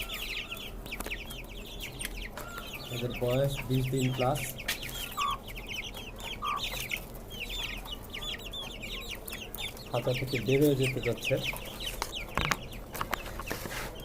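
White and red tiger-breed rooster and hens cluck in a cage on a five-storey rooftop, with repeated close clucking bursts and cackles, while a person talks over them.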